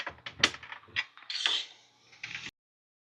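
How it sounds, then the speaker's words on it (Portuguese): Sewing machine running bursts of stitches along a zipper seam on a tea-time craft kit, with short mechanical whirring runs separated by brief pauses, close and moderately loud. "vou fazer a mesma coisa, posicionar aqui dentro e passar a costura"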